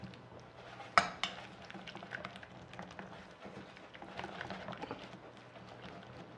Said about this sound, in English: Now just mix them up thoroughly.